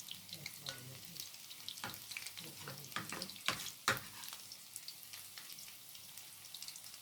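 Battered chicken pieces fry in hot oil, a soft continuous sizzle with scattered crackles and pops and a couple of sharper spits midway, close and fairly quiet.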